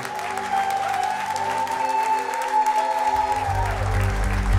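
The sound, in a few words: church congregation applauding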